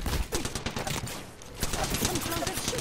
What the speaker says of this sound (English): Some clones are shooting at me.